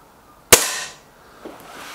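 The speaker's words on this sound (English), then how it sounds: "Both guns, I think, shot really well there" A single sharp crack from an SMK XS36 air rifle shot, loud and close, followed by a brief fading ring and a faint distant tap about a second later.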